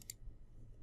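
A single quiet mouse click on an OK button, one crisp tick right at the start, followed by near silence with a faint low background hum.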